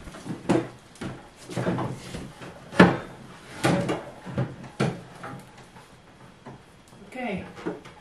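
Drawers of a wooden chest of drawers handled indoors during a home renovation: several sharp knocks and scraping slides spread across the clip, mixed with nearby voices talking.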